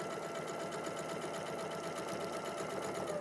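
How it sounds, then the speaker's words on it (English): A sewing machine set to a short stitch length of 2 runs a seam steadily, a fast even mechanical whirring with rapid needle ticking, quiet and uninterrupted. "I'm just going to sew down."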